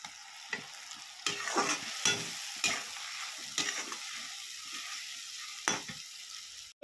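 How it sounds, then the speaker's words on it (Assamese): Two cut tomatoes fry in hot oil for a paneer masala, a steady close sizzle broken by repeated scraping stirs of a spatula against the pan, with no voices. "তেলতে ভাজি ল'ম বিলাহীটো ধুনীয়াকৈ, দুটা বিলাহী।"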